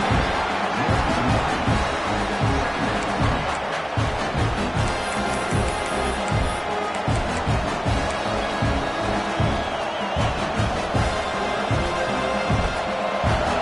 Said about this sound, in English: This crowd knows they have to bring it in big moments